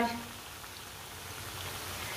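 Spinach and chicken shami kebabs fry in oil in a home kitchen, giving a steady, faint crackling sizzle that runs unbroken from start to finish.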